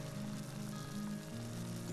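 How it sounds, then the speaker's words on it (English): Light summer rain falling steadily on the ground, a soft continuous patter and hiss, faint and even throughout, with no voices. "Listen to the rain hitting the ground."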